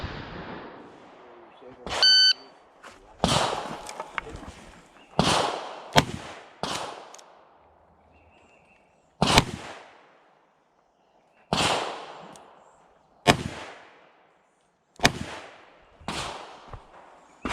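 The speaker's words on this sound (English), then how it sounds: "the difference in a 9mm versus the 454 casull round" Gunshots from a 9mm handgun and a Taurus Raging Hunter .454 Casull revolver at a shooting range, about a dozen sharp, loud reports spaced irregularly, each with a short ringing decay, one preceded by a metallic clink.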